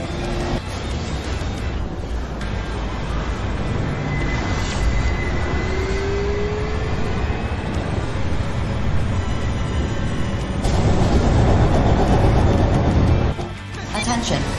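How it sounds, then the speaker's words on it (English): A train arrives in the mech action game Daemon X Machina as a heavy, continuous rumbling roar, loud and close, swelling slightly near the end before cutting off, with a voice speaking faintly beneath. "The train has arrived."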